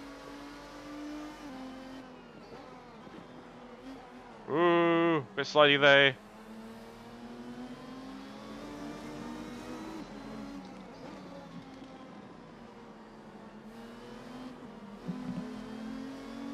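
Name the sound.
race car engine in the video game Assetto Corsa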